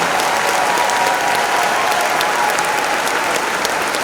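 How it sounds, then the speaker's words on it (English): Loud, sustained applause from a large crowd at a teacher welcome and Teacher of the Year event for a school district, an unbroken wash of clapping filling the entire span with no talk over it. "Another round of applause for Marshall."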